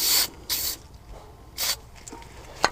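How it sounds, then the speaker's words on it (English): Three short hissing bursts from a WD-40 aerosol spray can, each about a quarter second, with brief pauses between and a few small clicks near the end. "we're going to be using some WD-40. Spray it in there."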